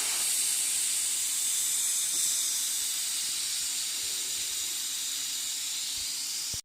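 An Instant Pot releases its pressure rapidly through the vent: a loud, steady rush of steam hisses continuously for several seconds, then ends in a sharp click.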